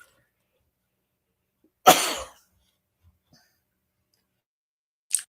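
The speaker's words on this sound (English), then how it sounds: "I got to sneeze." A single sharp sneeze, close and loud, right after sniffing lavender soap, followed by near silence and a faint short sound at the end.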